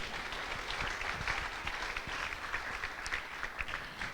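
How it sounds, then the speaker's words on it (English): An audience at a Sunday love feast at an ISKCON gathering breaks into sustained applause, a dense, even wash of many hands clapping throughout. "So let's give them a round of applause."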